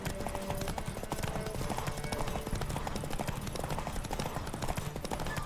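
A horse gallops in The Witcher 3 video game, rapid rhythmic hoofbeats pounding steadily and close, with soft game ambience beneath and faint talk at times.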